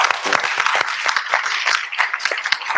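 Closing applause for the startups at the ATEC2021 startup competition, a crowd clapping steadily and fairly close with irregular sharp hand claps throughout.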